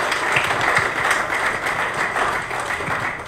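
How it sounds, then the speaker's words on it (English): Audience applause for a panel at a leather industry sustainability workshop, a steady, dense wash of many hands clapping throughout, fairly loud and continuous with no speech over it. "we will invite you to a big applause to this panel"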